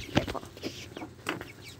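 Chickens at a small village farm house near Lahore cluck in a few short, close bursts against low background noise.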